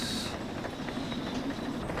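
A steam locomotive train in the VR game Derail Valley rolls along with a steady rumble and soft rhythmic wheel clatter; a brief hiss opens the moment.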